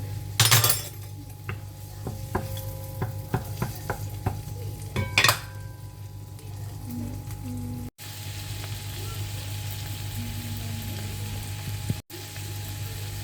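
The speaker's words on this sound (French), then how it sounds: "On va laisser cuire l'oignon, l'ail." Onion and garlic cooking in butter and oil in a frying pan for a pan gratin, with a soft steady sizzle, early clinks and scrapes of a utensil against the pan, and a faint voice in the background.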